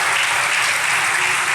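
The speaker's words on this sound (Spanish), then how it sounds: "Denle un aplauso a Dios" A church congregation claps in a brief, dense burst of applause that fills the room, with no talking.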